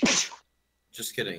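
A single short, loud sneeze bursts out at the start, followed after a brief silence by someone speaking.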